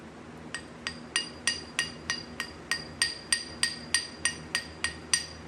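A hammer taps babbitt bearing metal about fifteen times at a steady pace, each strike a short, fairly dull clink with little ring, close and alone.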